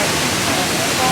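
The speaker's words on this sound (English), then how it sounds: "Can't remember the name of the waterfall, but I'll put the name on the screen." Steady broadband rush of a waterfall on Jeju Island, South Korea, heard up close and loud, a continuous hiss of falling water filling the whole moment without pause.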